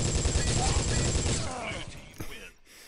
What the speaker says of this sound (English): Negev. My favorite weapon.